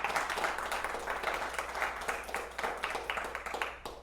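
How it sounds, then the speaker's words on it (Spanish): Church congregation clapping in applause, dense and continuous for a few seconds, fairly quiet and slightly distant, fading at the end. "Denle un aplauso al Señor, por favor."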